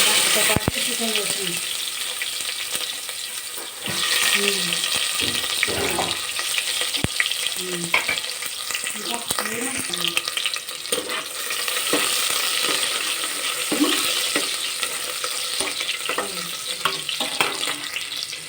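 Onions and chicken fry in a pan in a home kitchen, a steady loud sizzle running the whole way through, broken by frequent metallic scrapes and clinks of stirring.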